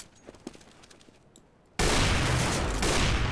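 Gunshots in a competitive Counter-Strike match between ESG! and USSR: after quiet ticking and faint footsteps, a sudden loud sustained barrage of gunfire starts and keeps roaring without a break.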